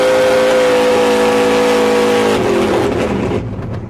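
A ZZ632 632-cubic-inch pump-gas Warrior series V8 car engine runs loud and close, a steady throaty drone that eases off and fades near the end.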